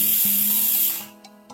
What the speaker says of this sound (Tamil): குக்கர்ல ஒரு விசில் வந்தோடனே இறக்கணும்.